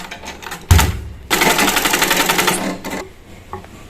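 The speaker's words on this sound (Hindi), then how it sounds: "इस तरह से फोल्ड करके स्टिच लगा लेंगे" A sewing machine stitches a folded fabric strip along a garment neckline, starting with a thump and then running in a fast, even mechanical chatter for about two seconds before stopping, close and clear.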